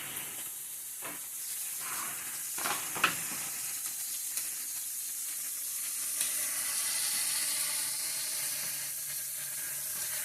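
Pork steaks sizzle steadily on a butane-fuelled Ozark Trail griddle, a continuous bright hiss with a few sharper crackles and scrapes early on, close and alone without talk.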